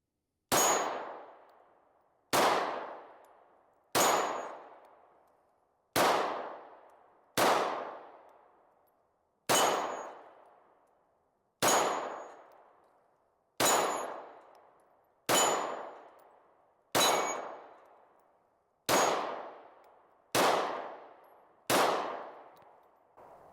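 Taurus GX2 pistol shots striking steel dueling tree plates: twelve loud, close metallic clangs about two seconds apart, each ringing out in a long decay, with no talking.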